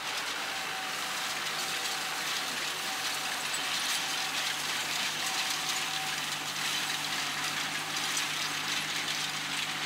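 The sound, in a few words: farm tractor engine running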